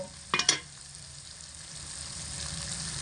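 Tomatoes cooked down in hot oil with spices sizzle steadily in a pan, opening with a couple of sharp clinks of a utensil, then a soft, even frying hiss with no talking.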